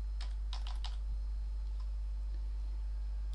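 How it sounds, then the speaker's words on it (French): Soft computer keyboard keystrokes tap in a short cluster near the beginning, then fade under a steady low hum and hiss. "je tape mon texte"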